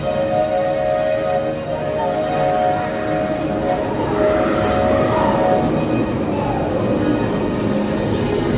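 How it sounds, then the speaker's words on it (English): A Disney monorail train at the Magic Kingdom resort passes nearby with a steady, loud rolling rumble and a sustained tonal whine that fades after several seconds, with no talk over it. "We just missed a train."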